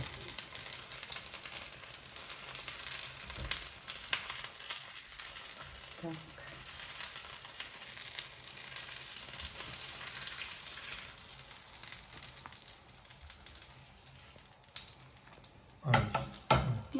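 Porcini mushrooms coated in batter fry in a pan, giving a steady, close hiss of sizzling oil throughout with occasional soft clinks of a utensil against the pan.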